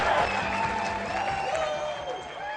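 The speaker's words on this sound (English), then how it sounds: "Get on your feet and clap until your hands hurt for the CEO and the visionary of North American Power" Large audience applause with some cheering fills a corporate stage event for the CEO of North American Power, a steady dense wash of clapping throughout with faint talk underneath.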